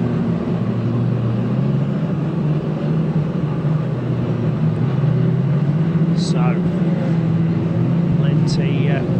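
Saloon stock cars race around a track at Kings Lynn, heard as a loud, continuous engine roar with a steady low drone, while an announcer commentates over it throughout.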